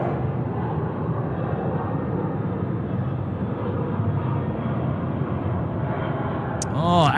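A Hawaiian Airlines airliner taxis along a taxiway at Sydney Airport at night, a steady broadband engine roar holding throughout at moderate distance, with a brief sharper burst near the end.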